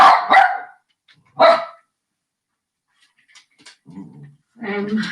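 A dog barks in a few short bursts, loud and close, separated by quiet gaps, with brief soft voice sounds near the end.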